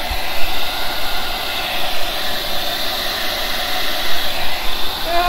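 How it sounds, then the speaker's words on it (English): A hair dryer blows loudly and continuously, a steady close whooshing roar with no pauses. "I'm not that great with the hairdryer"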